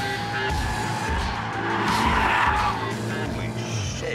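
A BMW F90 M5 with all-wheel drive slides sideways in a drift, its tyres squealing and skidding continuously over a steady engine roar, loud and close for the whole stretch.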